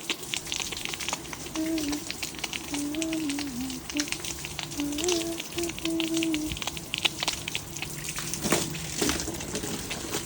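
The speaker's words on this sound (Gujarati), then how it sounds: "આ બધા ગરબાને પણ આપણે થોડું થોડું પાણી આવી રીતે પીવડાવી દઈ" Water pours steadily onto potted plants outdoors, a continuous soft splashing patter with a faint tonal hum beneath it.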